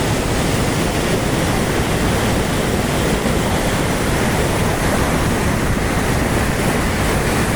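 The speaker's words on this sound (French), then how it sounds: "je remonte un petit peu la cascade" Loud, unbroken roar of falling water, a thick, even wash of noise close by, steady from start to finish.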